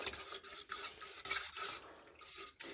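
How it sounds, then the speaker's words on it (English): Spoon stirring seasoning into pizza sauce for a Detroit-style pizza, a steady scraping swirl against the bowl with brief pauses, close and fairly quiet, no talking. "Go ahead and stir that in."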